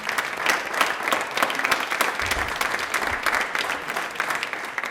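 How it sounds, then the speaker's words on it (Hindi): Studio audience of a televised quiz show applauding a contestant, a steady burst of clapping without speech. "ताली एक बार जोरदार बजा दीजिए इनके लिए पहले तो"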